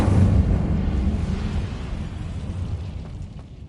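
A loud fiery burst from the Incendio fire spell in Hogwarts Legacy, a booming whoosh right at the start that rumbles and slowly fades over a few seconds, with no talking.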